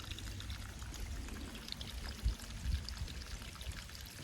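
Runoff water pouring and trickling downhill off a mountain slope at an off-grid cabin site, a faint continuous flow with a few soft splashes.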